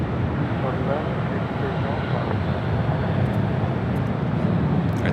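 A big Q400 turboprop airliner takes off from the south side of LAX, a steady, broad roar that holds level throughout, distant but loud enough to fill the air.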